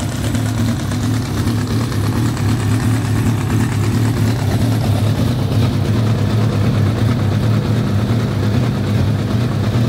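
A Radical SR8 race car engine idles close by, a loud, steady low rumble that holds constant without any revving.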